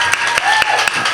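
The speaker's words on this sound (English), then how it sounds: "Please make a lot of noise for Amina and Andrea. Come on, clap them all the way up to the stage." An audience claps and applauds at an arts showcase, a steady close wash of hand claps with scattered sharper claps, loud and continuous for a moment.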